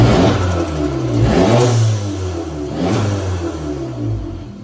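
Loud, close revving from a VW MK7 GTI engine fitted with an Integrated Engineering intake, rising and falling in several throttle blips with a strong low rumble throughout.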